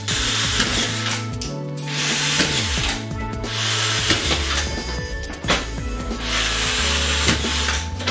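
A Bosch GSR 18V-EC TE cordless drywall screwdriver fitted with an MA55 automatic screw feeder drives screws in quick succession, with loud whirring bursts and ratcheting clicks repeating every second or two, close up and without speech.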